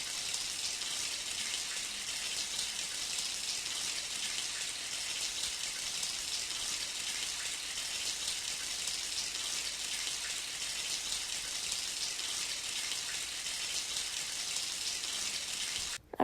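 A shower runs in a constant, hissing spray of water that holds at even loudness for the whole stretch and cuts off abruptly at the end.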